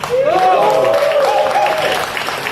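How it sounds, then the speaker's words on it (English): An audience at a Google Maps launch event lets out a sustained, loud cheering whoop over a crowd murmur and light applause, which fades toward the end. "thank you guys for great cheering"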